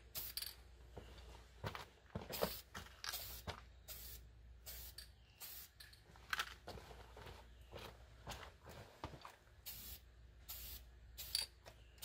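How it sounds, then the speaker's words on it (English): Repeated short hissing bursts of aerosol spray paint being applied to a Mossberg Maverick 88 Security shotgun, each spray lasting about half a second with brief pauses between, close up and without talk. "Okay guys, we're ready to start painting"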